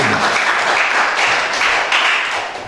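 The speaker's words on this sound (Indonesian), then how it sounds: "Tepuk tangan yang paling meriah bagi Tuhan" A church congregation at a Sunday service applauds, a dense, continuous wash of many hands clapping at full volume with no speech over it.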